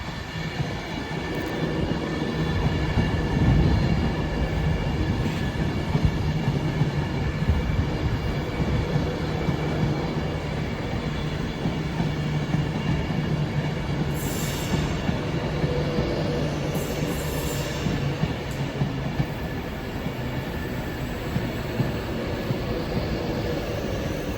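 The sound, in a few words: train passing at Carlisle station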